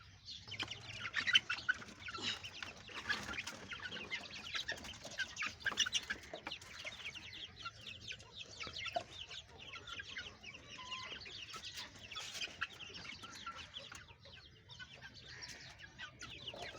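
Chickens cluck and chatter steadily in a coop on a rainy day, several hens overlapping in a busy, close flock with occasional louder squawks and no talking.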